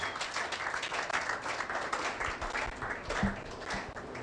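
Fairly faint, steady applause from an audience at an outdoor broadcast event, continuous clapping with a few louder thumps near the end.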